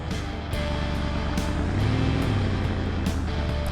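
A supercharged Gavril Grand Marshal taxi in a video game drag-race semifinal gives a steady, loud engine drone that holds throughout, rising slightly in intensity near the middle.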